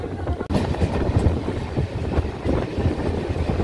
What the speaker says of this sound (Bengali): আজ দিয়ে চলে যাচ্ছে শিয়ালদাগামী আরও একটি লোকাল ট্রেন, শিয়ালদা প্রবেশ করছে।